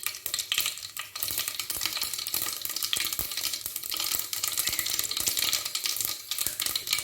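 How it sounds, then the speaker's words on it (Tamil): Mustard seeds spluttering in hot oil for a Tamil fish kuzhambu, a dense crackle of popping and sizzling with occasional sharper pops and stirring clicks, close and steady throughout. "நல்லா கடுகு பொரிஞ்சிடும்."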